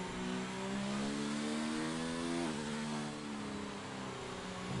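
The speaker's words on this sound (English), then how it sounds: "we see Tamworth Fox in that Racing Point machine coming out to make his qualifying lap" A Racing Point Formula 1 car engine in a racing video game, driven slowly on an out lap at the Japanese Grand Prix, a steady high whining drone with rising and falling revs, heard alone and up close.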